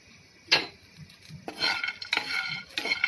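Almonds and cashews roasting in a frying pan are stirred with a spoon, giving a few sharp metallic scrapes and clinks against the pan in an irregular rhythm, close and clear with quiet gaps between.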